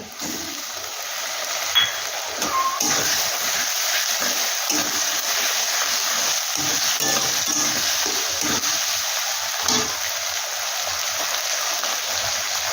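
Ginger and garlic paste hitting hot oil in a pan while cooking coriander chicken gives a steady, broadband hiss that holds evenly throughout, with a few faint clinks and stirs and no talking.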